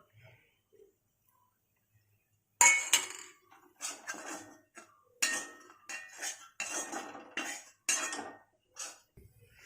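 Fried sweet potato being mixed with chilli powder in a pan, with close, sharp metallic clinks and scrapes of a spoon against the pan in irregular bursts following a short quiet start.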